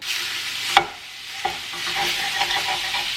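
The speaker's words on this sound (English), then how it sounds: "Now I'm just gonna brown up 1 pound of sausage." One pound of sausage browns in a hot pan, giving a steady, close sizzle with a few sharp scrapes and clicks of a utensil stirring it.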